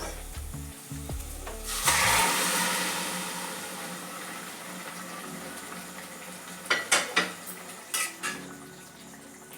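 Half-cooked mushrooms, steamed for two or three pressure-cooker whistles, are tipped into fried masala in a pan. A loud sizzling burst is followed by a steady frying hiss, then several sharp metal spoon clinks against the pan while stirring.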